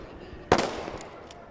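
A single sharp sniper rifle shot rings out at targets during a SWAT challenge, loud and sudden, followed by a decaying echo and a couple of faint later cracks.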